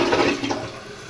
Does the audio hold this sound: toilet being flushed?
yes